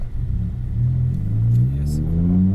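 A supercharged 5.2-litre BMW E60 M5 with a failing gearbox revs in first gear, a deep engine note rising steadily in pitch, loud and close, with brief talk alongside.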